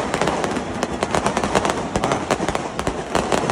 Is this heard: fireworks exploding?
yes